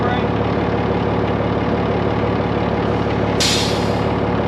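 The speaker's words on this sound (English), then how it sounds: "Take parking brake off." Volvo haul truck idling steadily close by, its engine drone continuous throughout, with a sharp hissing burst of air from the parking brake being released near the end.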